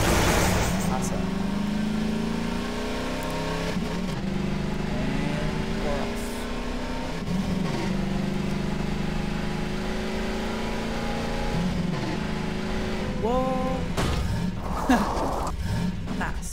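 An in-game vehicle in Half-Life 2 drives with a steady engine drone that rises and dips as it accelerates, running under near-constant talk.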